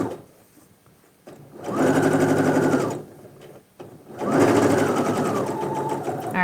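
A sewing machine stitches a zipper into a pair of pants in two sustained runs of rapid, even stitching, close and loud, separated by a short pause with faint handling sounds.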